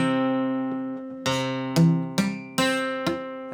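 Several strums of a guitar chord fretted with the finger pads so some strings are muted, each strum sharp and close, then decaying quickly into a dull, partly choked ring, with no talking.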